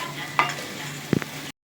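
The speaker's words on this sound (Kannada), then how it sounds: "ಈ ರೀತಿ ಚೆನ್ನಾಗಿ ಬದನೆಕಾಯಿನ ಫ್ರೈ ಮಾಡ್ಕೋಬೇಕು." Brinjal fries in oil with masala for a Karnataka-style stuffed eggplant dish, giving a soft, steady sizzle broken by a couple of brief scraping stirs before it cuts off.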